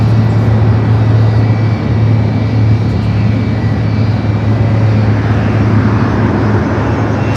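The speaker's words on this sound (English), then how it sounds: "At 757 300 heading up here for north side of takeoff." A Boeing 757-300 heads out for takeoff at LAX, its engines a loud, steady roar that holds with a constant low hum and broadband rush throughout.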